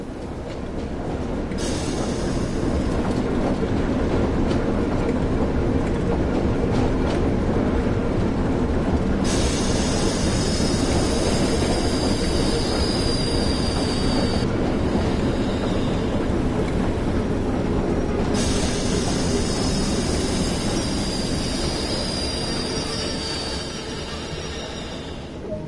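A locomotive on the Tees Valley Line in Train Sim World rumbles steadily with continuous rail noise and intermittent high brake squeal as it slows toward a stop, loud and unbroken throughout.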